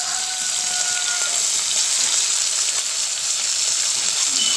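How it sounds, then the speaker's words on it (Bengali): Prawns frying lightly in a pan give a steady, even sizzle of hot oil that runs close and constant throughout, with no talking. "আর চিংড়ি মাছগুলোকে আমি হালকা করে ভেজে নিয়েছি।"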